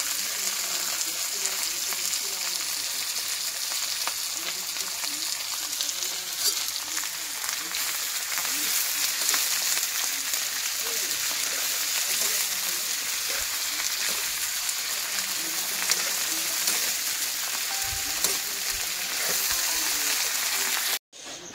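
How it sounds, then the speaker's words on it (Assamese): Fiddlehead ferns and potatoes sizzle in oil in a small wok over a gas flame, a loud, continuous crackling fry that holds steady for about twenty seconds before cutting off. "এতিয়া আমি ঢেঁকিয়া আৰু আলুখিনি ঢালি দিম কেৰাহীটো সৰু সেইবাবে অলপকে ভাজি লম"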